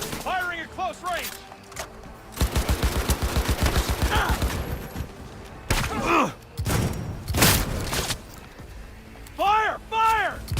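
Close-range gunfire in Cyberpunk 2077, a rapid burst of automatic shots followed by heavy thumps and booms, loud and near, with shouted voices and other game sounds before and after.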